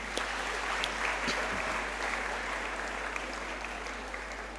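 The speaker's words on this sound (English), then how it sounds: "Another clap for him." Audience at a student orientation applauding the regional minister for Greater Accra, a dense, even wash of clapping heard at a distance across a large room, continuing steadily throughout.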